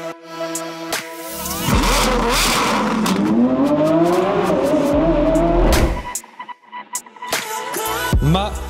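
Sports car in a showroom fires up and revs hard, engine sound rising and falling through several loud revs, then settling into a rough idle with blips, close and loud.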